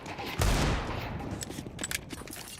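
Gunfire bursts in a professional Counter-Strike esports match: a loud burst of shots followed by scattered fainter pops and clatter.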